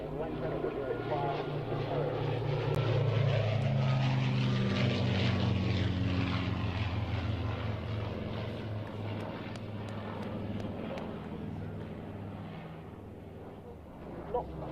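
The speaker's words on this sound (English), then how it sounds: "I'm going to go quiet again for a minute so you can hear the Lancaster, Spitfire and Hurricane" Battle of Britain Memorial Flight Lancaster, Spitfire and Hurricane flying past, a loud sustained propeller-engine drone with shifting harmonics that swells and slowly fades, steady throughout.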